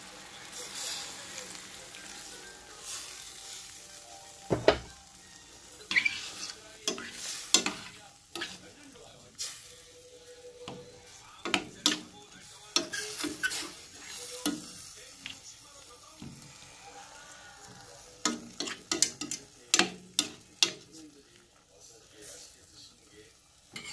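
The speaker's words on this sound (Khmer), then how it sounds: "ហើយយើងដាក់ទឹកអង្ករចូលទៅ" Pork pieces simmering in rice water, stirred in a pot, with soft bubbling and sizzling under a run of scraping stir strokes and occasional knocks, close by and moderately quiet.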